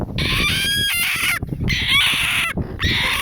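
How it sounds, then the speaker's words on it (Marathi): Farmyard hens cluck in loud, close bursts while a rooster's crow rises in long harsh calls, several overlapping fowl voices filling the clip with short gaps between. "आता हे बघा हे जे कोंबड्या दिसत आहे"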